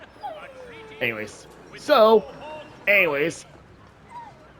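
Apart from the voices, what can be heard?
dog whimpering while being petted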